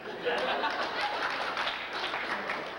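A 1992 Tennessee Governor's School talent-show crowd applauds Ed with a steady wash of clapping that stays faint and distant for the whole stretch.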